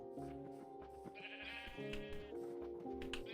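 Sheep in the Minecraft video game bleating in several wavering, stacked calls over about three seconds, fairly quiet and close, with no speech over them.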